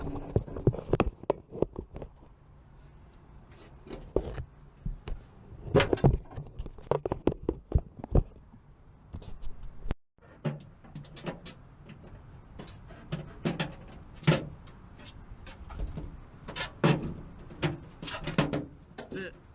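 Plastic retaining clips squeezed and a trim panel pulled off in a Nissan Altima, heard as a series of sharp plastic clicks and snaps in scattered bursts, fairly close.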